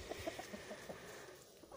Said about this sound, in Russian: куры пробуют варенье, вишневое варенье с хлебом